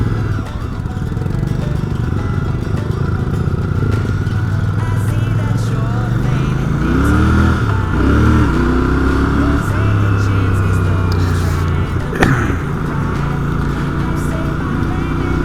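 Royal Enfield Bear 650 motorcycle being ridden, a steady loud engine drone with wind rush, engine pitch rising and falling through gear changes midway, continuous throughout with no speech.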